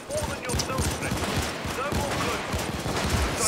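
Rapid, rattling game gunfire from a sniper rifle keeps up a steady stream of shots under a player's talking.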